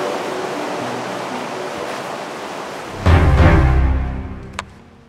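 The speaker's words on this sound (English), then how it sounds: "As you can hear from the sounds behind me in the river, the currents are really strong" Strong white-water currents of the Sabi River in South African wilderness, a steady broadband rush that swells louder and closer midway before easing off, with no voices.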